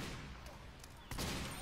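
Spy's Ambassador revolver firing a headshot in Team Fortress 2, a single sharp gunshot crack near the end over a busy, noisy game mix.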